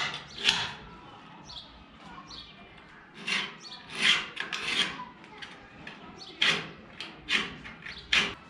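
Short scratchy scraping strokes of a scriber marking sheet metal on a sliding gate, repeated in irregular close bursts with quiet pauses between.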